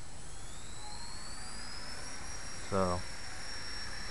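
A radio-controlled helicopter fitted with a 3-axis gyro runs at full speed in normal mode with its tail spinning, giving a steady, high-pitched whine that carries through, with a single brief spoken word near the end.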